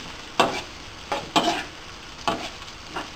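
Peas and corn stir-fried in a pan, with four or five distinct scraping stirs over a soft steady sizzle, close and fairly quiet, no talking.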